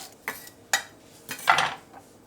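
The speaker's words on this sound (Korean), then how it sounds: "저는 실파라서 그냥 잔잔하게 썰어 보겠습니다." A knife on a board cuts thin green onions finely in a kitchen, a few sharp, close chopping taps spread irregularly over a couple of seconds, with no talking.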